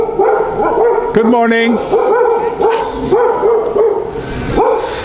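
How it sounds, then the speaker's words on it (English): Several dogs bark repeatedly in a residential neighborhood in the Philippines, loud and close with a steady rhythm, while someone speaks briefly. "there's no peace and quiet in here because of all these dogs"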